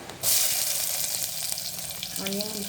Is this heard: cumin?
yes